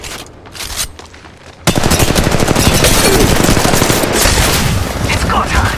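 Sustained rapid automatic gunfire in Apex Legends Mobile, loud and close, starting abruptly after a short stretch of quieter game ambience and continuing to the end, with a brief voice callout.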